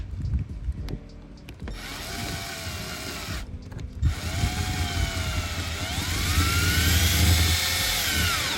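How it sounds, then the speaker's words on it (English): A power drill whines steadily as it drills into the plastic rear bumper of a 2014-2016 Scion tC, its pitch rising and falling as it bites in, with a brief pause before revving again, loud and close. "we'll just drill right here in the middle so it looks neat"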